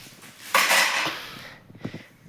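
Metal bowls and utensils from a household steel kitchenware set being handled, a sharp clattering jangle followed by a few softer clinks and taps close by.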